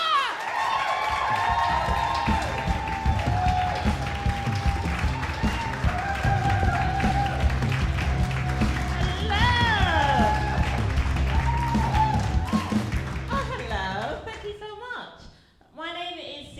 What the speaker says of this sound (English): please keep that applause going for Sikisa!